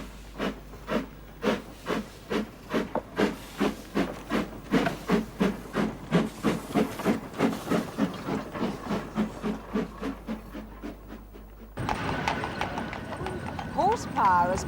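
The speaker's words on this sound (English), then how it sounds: "Horsepower has pulled the trams along Douglas Promenade for more than a century now." Regular clopping hoofbeats of a horse-drawn tram on Douglas Promenade, Isle of Man, close and steady, for about twelve seconds, followed by a hissing, rumbling mechanical noise.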